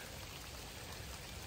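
Rain falls steadily during an outdoor walk, a constant even patter of drops on surfaces with no pauses or voices.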